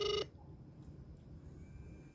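A short electronic tone from a ZL54C smartwatch placing a Bluetooth call, a bright steady beep lasting about a quarter second, followed by quiet room hiss.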